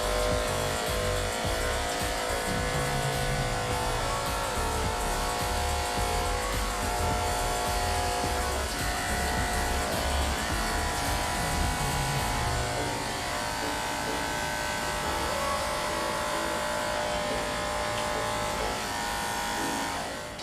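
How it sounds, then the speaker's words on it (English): Electric hair clipper buzzing continuously and close during a haircut, scooping away from the client in smooth C-shaped strokes, a steady loud hum that persists throughout. "Always using nice, smooth strokes and C motion, meaning we're going to scoop our clipper"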